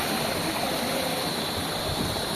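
Bambi Falls in Barangay Bi-ao, Binalbagan, pours as a loud, steady broadband rush of falling water close by, with no break.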